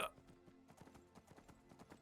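Horse hooves clip-clop in the video game Skyrim, a quick, even run of light hoof beats at moderate distance, fairly faint, with no voices over them.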